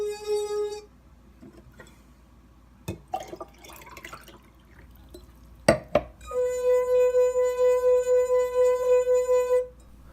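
A wine glass rubbed around its rim by a finger gives a clear, sustained pure ringing tone that swells and wavers, with a brief ring at the start and a longer one at the end, separated by a few soft knocks.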